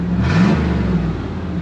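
A 1989 GMC Sierra 4x4 engine revving with only half its exhaust line and no muffler, a loud, close, rumbling rev that swells and eases over a second and a half.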